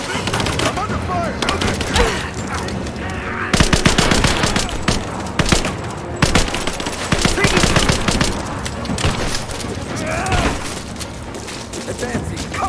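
Gunfire in a firefight in Rise of the Tomb Raider: loud, dense bursts of automatic fire and rapid single shots, close and continuous, with brief impacts and voices calling out under the shooting.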